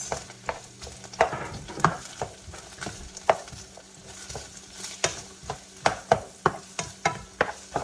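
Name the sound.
sautéing onions in a pan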